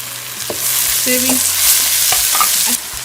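Finely chopped, peeled tomatoes tipped into frying onions and stirred, a loud close sizzle with scraping and clinking of a utensil against the pan.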